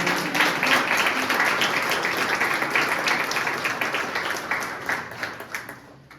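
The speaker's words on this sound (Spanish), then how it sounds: "Dale un aplauso al Señor." A church congregation claps together in sustained, dense applause during a worship service, steady and loud before thinning out toward the end.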